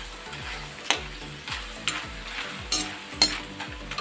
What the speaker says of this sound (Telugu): ఆయిల్ కాగిపోతుంది. కాన్ఫిక్స్ వేసుకున్నాం.